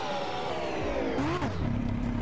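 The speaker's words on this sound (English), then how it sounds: "the sound and the motorcycle is pretty dang smooth." A motorcycle engine in the Roblox game Drag Project Future revs and whines. Its pitch climbs, drops sharply as it shifts, then rises again in a steady, smooth drone.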